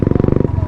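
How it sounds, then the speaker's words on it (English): Royal Enfield motorcycle exhaust on a Himalayan ride, a loud, close, steady low thumping beat that eases off partway through. "It looks like a bit of an army vehicle, and sounds like a bit of a beast with the exhaust on the back there."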